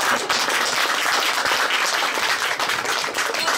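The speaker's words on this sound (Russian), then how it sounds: "хлопают тебе уже" Steady, dense applause from a concert audience at a song performance, many hands clapping continuously and fairly close, with no pauses throughout.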